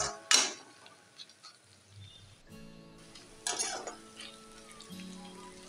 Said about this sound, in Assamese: পিঁয়াজখিনি এনেকৈ লাহে লাহে অলপ টাইম ভাজি থাকিব